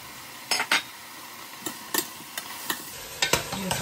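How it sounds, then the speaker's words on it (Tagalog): Chopped onion and tomato tipped into a cooking pot for pork sinigang, giving a few scattered clinks and soft thuds of utensils against the pot, with a faint sizzle underneath and no talking. "Ilalagay ko na ang sibuyas at kamatis."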